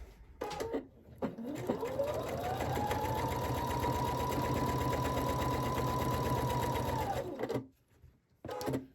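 A sewing machine stitches quilt-as-you-go panels for mug rugs or pouches, opening with a few short clacks before running in a steady, rapid, close hum of stitching that ends in quick taps.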